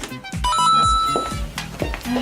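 Telephones ringing onstage during a comedy sketch at a dental gala show in Strasbourg: repeated electronic ring tones overlapping with a steady backdrop of crowd and hall noise, several rings layered together.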